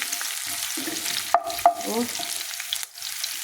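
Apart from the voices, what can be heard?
onions frying and sizzling in a pan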